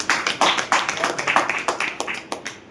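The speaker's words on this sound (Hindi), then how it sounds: "एक बार जोरदार तालियां।" Audience clapping at a business planning talk, a run of sharp, fairly close claps in an uneven rhythm that thins out toward the end.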